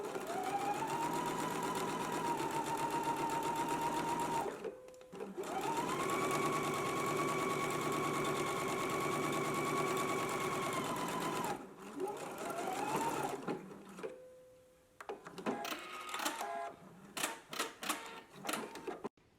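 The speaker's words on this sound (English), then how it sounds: "I'm going to head to my sewing machine now." A sewing machine runs in long steady bursts of rapid stitching a French seam in fabric, pausing between runs, then a series of short clicks and taps close by.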